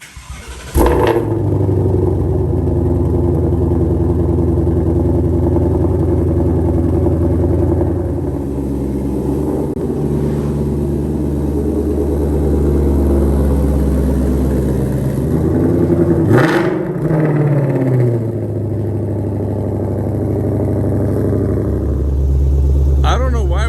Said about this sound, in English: Such a fast car, they went with such quiet exhaust.